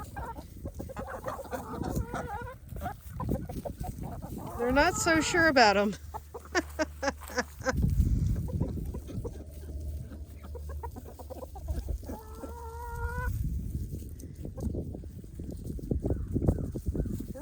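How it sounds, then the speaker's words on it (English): Chickens cluck and squawk close by in short bursts, with people talking over and between the calls. "The chickens are eating them. This chicken's eating them."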